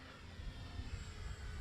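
A Dynam Waco RC model biplane flies at a steady distance, its small electric motor making a continuous moderate drone with wind noise and no voices.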